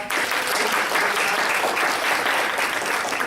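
A round of applause from attendees at a District 5 United community meeting, loud, dense clapping sustained evenly across the whole stretch with no voices over it.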